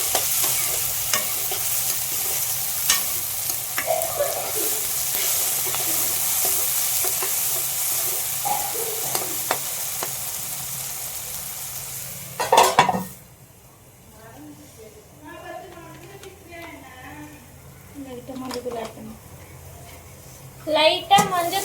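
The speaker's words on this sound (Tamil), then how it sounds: "இதை வதக்கிக்கலாம்." Soya chunks for a gravy sizzle and fry in a pan while being stirred, with scraping and clattering from a utensil, a couple of louder clanks near the end.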